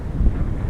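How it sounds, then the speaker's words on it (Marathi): Strong wind buffets a microphone on a rainy beach, a steady low rumble of gusts over about a second with no voices. "मित्रांनो वारा इतका आहे की आमचा ट्रायपॉडच पडला खाली"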